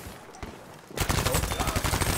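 Rapid bursts of gunfire from a Battlefield 5 match start abruptly after a near-silent second and continue as a dense, loud rattle of repeated shots with no talking.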